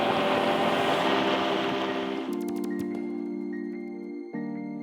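AirCam aircraft's left engine throttling up, a steady broadband propeller and engine roar with rising harmonic tones, loud and close, shifting pitch as power increases.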